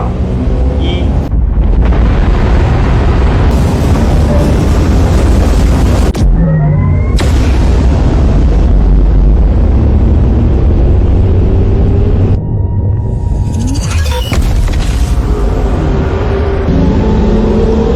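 A Zhurong-class spaceship's main engine ignites and blasts in an animated sci-fi drama: a loud, sustained roaring rumble fills the whole stretch, broken by a few abrupt cuts and tonal swells.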